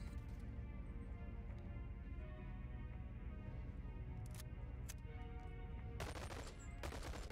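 Firefight in the VR game BoneLab with a steady wash of distant automatic gunfire and battle noise throughout, plus a few sharper nearer cracks and a quick flurry of shots near the end.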